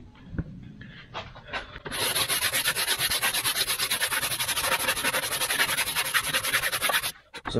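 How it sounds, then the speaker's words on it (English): A sander with a coarse abrasive side scrubs steadily across wood during an electric boat build, a loud continuous rasping that starts after a few faint knocks and runs for about five seconds before stopping. "So I'm just sanding it to get the most of it down with the coarse side"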